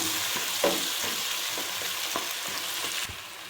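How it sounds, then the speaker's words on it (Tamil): Ground tomato is stirred into capsicum frying in a pan for a sweet corn gravy. A steady hiss of sizzling oil runs under irregular scraping and clacking strokes from a spoon or spatula, with no talking. "இப்போ நான் வந்து இந்த குறைன்னு அரைச்சி வச்சுருக்கிற தக்காளி சேர்த்துக்க போகிறேன். ஓகே, நல்லா மிக்ஸ் பண்ணி விட்டுக்கிறேன்."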